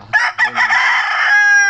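A Talisain gamefowl rooster crows once, loud and close. The call comes as a broken, rising cock-a-doodle-doo that ends on a sustained, strained note.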